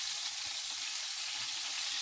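Chopped garlic sizzles in hot oil in a pan while fried rice is cooked, giving a steady, close, bright crackle with no talk over it.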